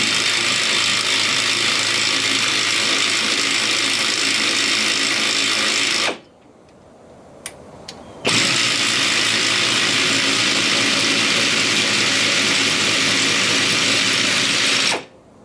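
A ratchet hoist is cranked to lift an engine off a shop floor. Its fast, steady metallic clicking runs for about six seconds, pauses with a few faint ticks, then resumes for another six seconds before stopping.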